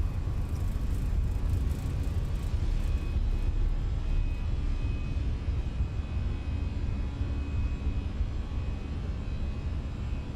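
An EasyJet Airbus A319's jet engines at takeoff thrust in Microsoft Flight Simulator give a steady, loud, broadband roar that holds without a break, with no talk over it.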